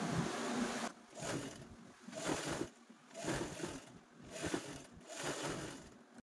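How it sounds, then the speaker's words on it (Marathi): A sewing machine stitches a zipper onto a small fabric pouch, its motor whirring in steady pulsing runs with brief pauses between bursts, moderately close and alone. "सेम त्याच पद्धतीने आपल्याला ही झिप आहे ती स्टिच करून घ्यायची आहे"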